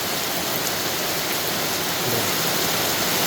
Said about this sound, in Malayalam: മഴയുടെ സൗണ്ട് നിങ്ങൾ കേൾക്കുന്നുണ്ട്.